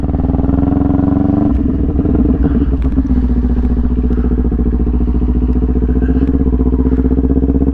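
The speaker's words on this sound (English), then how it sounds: "I'm gonna really have to use my engine braking." A motorcycle ridden on engine braking alone with no brakes, its engine note loud and close, dropping in pitch with an irregular crackle and clatter partway through, then holding a steady throbbing drone.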